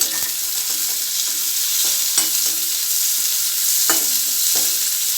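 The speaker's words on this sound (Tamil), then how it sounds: "நம்ம கடுகு நல்லா பொரிஞ்சிச்சு வெங்காயம் சேர்த்துக்கிடுவோம் வெங்காயம் நமக்கு நல்லா வதங்கிடணும்" Onions sauté in hot oil with mustard seeds that have already popped, giving a steady loud sizzle with occasional scraping stirs and light clicks.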